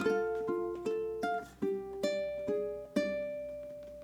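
A plucked ukulele picks out a short melody, clear single notes ringing one after another at a gentle, unhurried pace, heard alone without talk.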